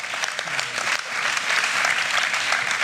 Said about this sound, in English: Yeah, give them a round of applause, guys.